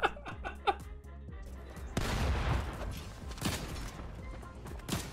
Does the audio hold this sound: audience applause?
no